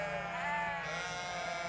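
Sheep kept in a barn overnight bleat in winter while waiting to be fed, one sustained, wavering, nasal cry heard close and clear without any talking.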